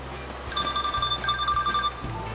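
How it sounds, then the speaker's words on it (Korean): A telephone rings in a small aquarium shop, its electronic tone sounding in two or three short bursts over a low background hum, close and clear. "금세 또 전화벨이 울린다"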